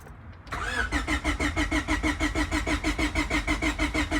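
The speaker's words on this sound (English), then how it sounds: "So we have distributor and fuel pump disabled," A Honda D15B engine turns over on the starter with the distributor and fuel pump disabled, so it never fires: a steady, rhythmic cranking churn, loud and close, running without a break and with no voices.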